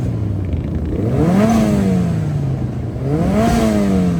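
A car engine revs hard twice at the Santa Pod drag strip, each rise climbing steeply in pitch and then easing back as it falls away. The revs are loud and close over a steady engine rumble, with no talking.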